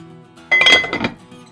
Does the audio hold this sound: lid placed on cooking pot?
yes